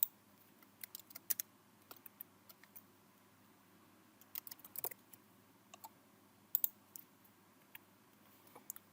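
Light clicks and keystrokes come from a computer keyboard while coding in Visual Studio Code, sounding as sparse, faint taps in small irregular clusters over a quiet room hiss.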